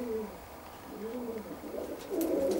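Perm grivun pigeons cooing while being fed, with several soft, low, rolling coos repeating close by and a little background rustle.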